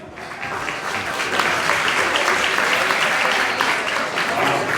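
Audience at a business masterclass session in Orlando applauds a presenter named Garrett, a dense, steady wash of clapping from many hands that holds loud and even throughout, with faint voices mixed underneath.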